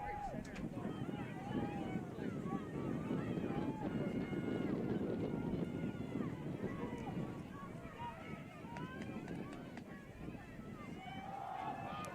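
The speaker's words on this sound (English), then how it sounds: "It's so windy." Wind buffets the microphone at an outdoor high school football game, a steady rough rumble that continues under crowd noise and commentators talking.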